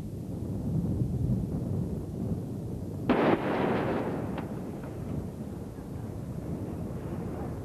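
A Viper mine-clearing line charge detonates during a Canadian Forces breach of a minefield: a single distant, muffled boom rises briefly out of steady wind rumble, then fades back into it.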